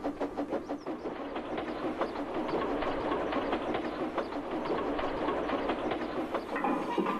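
A ridiculously long train starts to roll with great effort, giving a dense, continuous rumble with rhythmic clanking and chuffing that stays fairly loud and even throughout.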